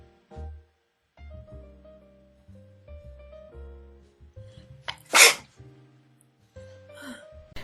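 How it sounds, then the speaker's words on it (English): Among quiet, intermittent sounds, a single sharp, loud sneeze bursts out, followed by a softer breathy noise. "hold on, I sneeze."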